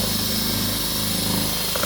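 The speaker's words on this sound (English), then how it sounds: "So we're getting us some mud mixed up here." A power drill with a mixing paddle churns quick-set lightweight drywall mud with a 20-minute set time during a sheetrock repair in a garage, giving a steady, loud, continuous whirring grind with no break.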